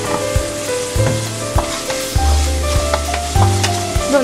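Onions sautéing in a pan with salt for spinach thoran, a close, loud sizzle broken by repeated spatula scrapes and clinks against the metal at an irregular, brisk rhythm.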